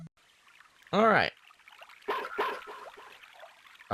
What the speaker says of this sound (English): It's Boney barking. He must be nearby.